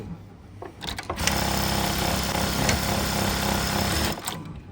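A BAOYU GT-991 automatic buttonhole sewing machine starts up and runs at a steady, fast mechanical chatter for about three seconds, then winds down; close and fairly soft, no talking.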